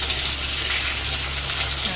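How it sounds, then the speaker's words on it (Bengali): Potato and ridge gourd pieces fry in hot oil, giving a loud, continuous close-up sizzle with a faint stirring undertone. "ঝিঙে আর আলুগুলোকে এবার তেলের মধ্যে ভাজতে দিলাম"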